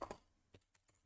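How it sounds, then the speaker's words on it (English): Keys clatter faintly on a computer keyboard as text is entered into an online design tool, a few scattered quiet taps after a louder opening burst. "first I'm going to start with typing some text"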